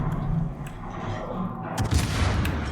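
A T10 Petropavlovsk cruiser's naval guns fire in World of Warships. Heavy, rolling booms swell into a loud salvo midway through and fill the whole stretch with dense battle rumble.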